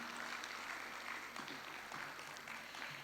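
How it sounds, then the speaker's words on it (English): An audience at a formal annual event applauds steadily, a dense sustained clatter of many hands clapping throughout, fairly loud and even, with no talk over it. "Please give them all a big round of applause."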